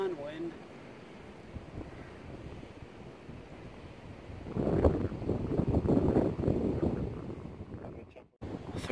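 Outdoor wind buffets the microphone in an open field, a low rumbling roar that is steady at first and swells into stronger gusts in the second half, with faint voices in the background.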